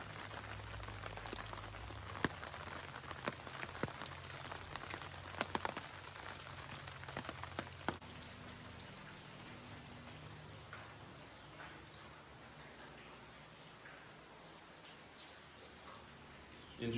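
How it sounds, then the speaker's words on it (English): Steady light rain falls outdoors in East Calico, Arkansas, a quiet ghost town, with scattered close drips and taps early on, then a soft even patter. "A little difficult as it's raining."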